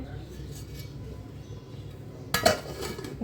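A lid is set onto a cooking pot of Assamese fish curry with a short metallic clank and rattle after a quiet stretch of low kitchen background.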